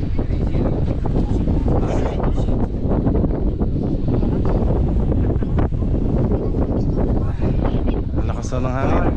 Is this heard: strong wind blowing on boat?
yes